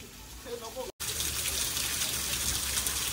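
Hands splash in cold, fast-flowing stream water at Ambenali ghat on the road to Mahabaleshwar: a loud, close, steady rushing gush with a brief cut near the start and faint voices beneath.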